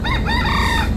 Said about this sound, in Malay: berselang-seli dengan bunyi kokok ayam